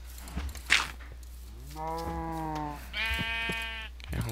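Baby cow in the video game Minecraft moos twice, two drawn-out, mid-pitched calls in quick succession, with a small click earlier and no talking.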